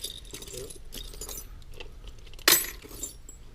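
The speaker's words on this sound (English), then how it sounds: "them little watch keys, they usually stay to the end" A handful of small antique skeleton keys and watch keys clink and jangle softly together up close, a light metallic rattle with one sharper, louder chink midway.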